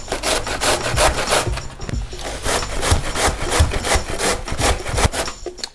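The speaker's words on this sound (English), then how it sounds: "I unfortunately just have a box grater, so we're doing it the old-fashioned way" Cabbage being grated by hand on a box grater for sauerkraut, with loud, rapid, rhythmic rasping strokes close by and no voices.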